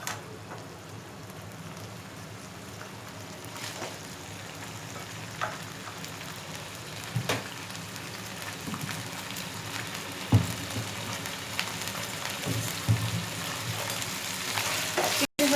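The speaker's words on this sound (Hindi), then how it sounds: "फ्राई करने में मुझे 5 मिनट लगेंगे।" Chicken pieces fry in a pan for macaroni, a soft continuous sizzle up close with scattered crackles and occasional clinks of stirring throughout.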